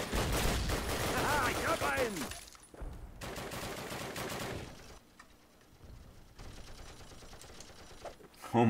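Gunfire in Call of Duty during a training mission, rapid bursts of shots in the opening seconds, then further volleys and scattered reports at middling distance, with some quieter gaps between.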